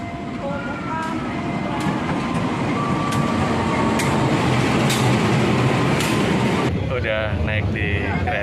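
Steady rumble of a moving train carriage with periodic rhythmic clicks, a constant loud interior drone throughout.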